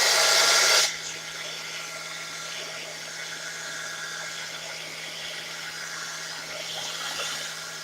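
Hair dryer blowing steadily to dry a wet gel plate print, a loud close burst at the start that drops to a quieter continuous whir for the rest, with no talking.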